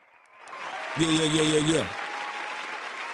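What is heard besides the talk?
audience applause for Dominique Davis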